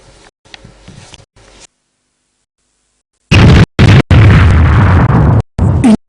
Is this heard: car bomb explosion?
yes